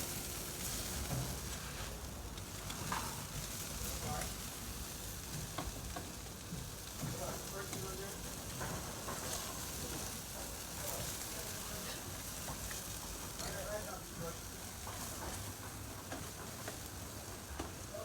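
Fish fries in a pot over high heat, a dense continuous sizzle that stays loud and steady throughout, with faint stirring underneath.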